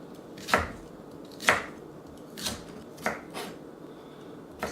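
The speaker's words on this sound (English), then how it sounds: "So chop up the kohlrabi into fairly small pieces." A knife chops peeled kohlrabi into small pieces on a cutting board. Five or six distinct, fairly close strokes land about a second apart, with quiet gaps between them.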